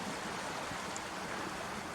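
River water rushes steadily over a ford, a dense continuous wash of flowing water that stays even in level throughout, with no voices.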